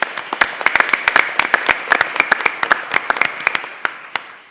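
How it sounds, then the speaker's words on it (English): An audience at a housing equity conference claps for a speaker: a few nearby hands giving sharp, distinct claps in a loose rhythm, thinning out toward the end. "let's give Harold a round of applause."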